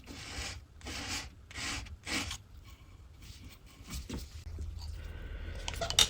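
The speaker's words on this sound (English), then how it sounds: "So I have a 180 grit sandpaper." A 180 grit sandpaper rubbed by hand over a mid-century Ethan Allen Windsor-brace wooden dining chair, heard as several close rasping strokes in a loose rhythm, then softer scrubbing.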